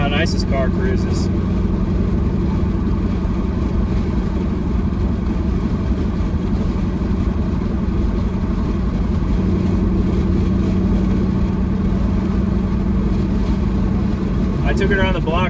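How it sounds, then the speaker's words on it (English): A Whipple supercharged Chevrolet Camaro SS 1LE V8 cruising, heard from inside as a loud steady low engine drone with constant road and drivetrain rumble, unbroken for the whole stretch. "Look how nice this car cruises."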